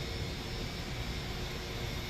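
Steady broadband roar of an Airbus A321 jet airliner pushing back, simulated in Microsoft Flight Simulator 2024, with continuous engine hum and no speech, loud and unchanging throughout.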